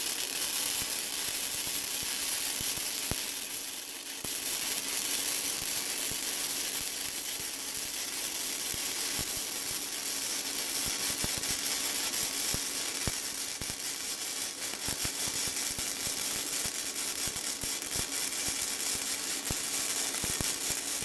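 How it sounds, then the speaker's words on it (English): Flux core welding on a steel winch bumper for a Toyota 4Runner or Tacoma, a continuous dense crackling sizzle with spatter that runs steadily and close for the whole stretch with one brief dip. "Just some more gratuitous welding here."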